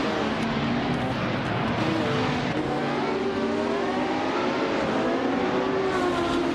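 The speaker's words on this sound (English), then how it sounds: "Gilded Sarcophagi is driving a 1970 Porsche 917K" A 1970 Porsche 917K and other race cars drive in a racing video game, with a steady, loud engine roar whose pitch rises and shifts throughout.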